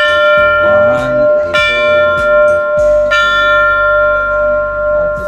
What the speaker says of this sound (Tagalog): Kailangan palang i-bell natin to para Otaru Station